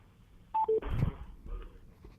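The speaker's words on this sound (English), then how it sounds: "I'm unmuting all the phone lines here to see if anyone has any questions." Two short electronic tones sound on a conference call phone line as the lines are unmuted, a higher beep followed by a lower one, with low line noise after them.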